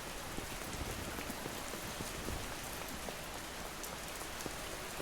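Steady rain falls in the video game Schedule I, a dense, even patter of drops on surfaces with small taps scattered through it, continuous and alone for the whole stretch.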